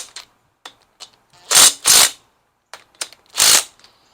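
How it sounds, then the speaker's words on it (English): Torque wrench tightening bolts on a Harley-Davidson Evo Sportster engine during assembly: a series of short clicks and ratcheting snaps, several loud close bursts spread irregularly, with quiet gaps between. "You're going to keep torquing them kind of in sequence and then do a final torque."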